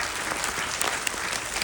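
An audience at a school show applauds, with dense, steady clapping close by throughout, no voices standing out.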